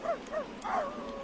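A dog baying from a farm on a quiet night, three short rising-and-falling howls in quick succession, moderately close and fairly faint.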